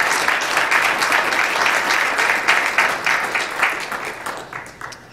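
Audience applause at a Michigan legal milestone event on Poletown and eminent domain, a dense, steady wash of many hands clapping that tapers slightly toward the end, with no talk over it.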